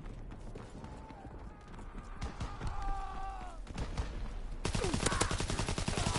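Sten gun fire in Call of Duty WWII, a rapid burst of close, loud gunshots that jumps in near the end over game ambience and whistling tones.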